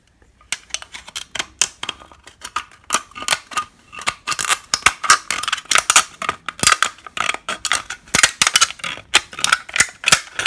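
Rapid, irregular crisp snips of scissors cutting through a thin aluminum soda can, close and steady throughout with no talking.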